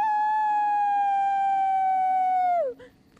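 A man howls like a wolf to call his dog: one long sustained wail with rich harmonics, held steady for over two seconds before sliding down and cutting off, loud and close, a voice imitating a wolf's howl.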